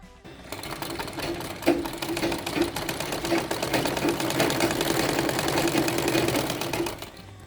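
A sewing machine runs steadily for about six seconds, stitching along the folded edge of a saree with a dense, rapid mechanical whirr and needle clatter, close and loud, with a brief bump near the start and no talking.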